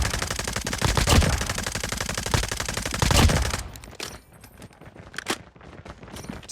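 An SMG fires rapid automatic bursts in Call of Duty Mobile, loud close gunfire for nearly four seconds followed by quieter reload and handling clicks.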